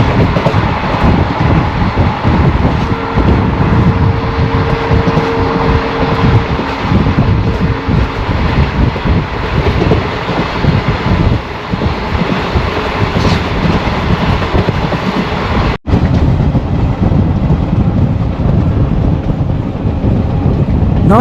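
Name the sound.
moving express train wheels rhythm with wind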